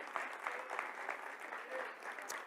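A church congregation at a men's congress applauds steadily, a soft, even wash of many hands clapping that sounds somewhat distant and stays uniform throughout.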